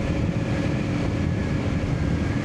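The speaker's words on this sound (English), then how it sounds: "In my case, I have the Kaufman exhaust, and dude, it just sounds so good." A Kawasaki Ninja 500 motorcycle fitted with a Kaufman slip-on exhaust holds a steady, rumbling engine drone, loud and close, with no talk and some wind buffeting.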